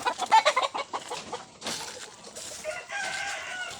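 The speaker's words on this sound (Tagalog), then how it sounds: "dagko king mga manok" Large hybrid Peruvian chickens in a farm setting: a moderately close rooster crow rises amid rapid clucking and softer fowl calls, a busy, uneven flock sound with no talking.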